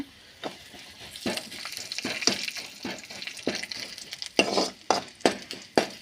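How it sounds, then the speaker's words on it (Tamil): Urad dal frying in hot oil, sizzling and crackling, with frequent sharp stirring clicks of a spoon against the pan. "உளுத்தம்பருப்பு வந்து கொஞ்சம் நல்லா எண்ணெயில் பொரியட்டும்"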